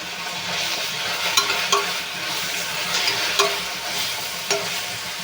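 Onions sizzling in a pan for chicken curry, a steady close frying hiss with occasional stirring clinks.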